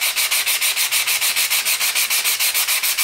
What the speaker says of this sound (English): I'm just gonna use this 70 grit filing pad